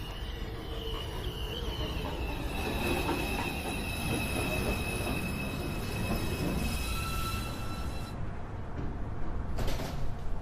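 A Manhattan-bound NYC Subway 2 train pulls into Beverly Road station, its wheels squealing in long, high, sustained tones over a steady rumble of railcars, loud and close, with no one talking.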